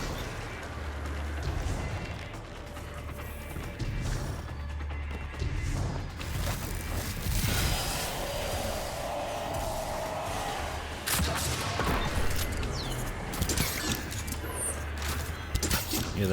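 Grenade blasts in the video game Destiny during a solo Grandmaster Nightfall run in Scarlet Keep, heard as dense, loud rumbling booms and crashes that overlap continuously with a little weapon fire.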